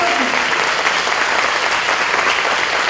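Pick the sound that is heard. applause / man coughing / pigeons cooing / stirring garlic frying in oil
applause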